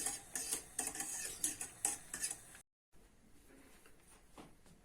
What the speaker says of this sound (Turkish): Karıştırmayı bırakmıyorum.